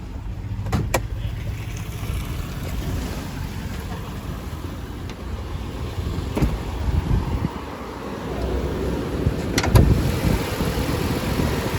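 A 2014 Toyota FJ Cruiser V6 cranks and fires, then settles into a low, even idle heard nearby, with a few sharp clicks and clunks around it and a brief rise near the end.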